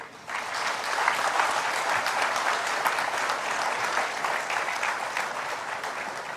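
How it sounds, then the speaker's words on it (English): Seminar audience at an international bridge-management conference giving a warm round of applause after a minister's address, a dense, sustained clatter of many hands swelling in quickly and holding steady until the end. "Let's give a huge round of applause and thank for the visionary address from the Honorable Minister, Shri Nitin Gadkari."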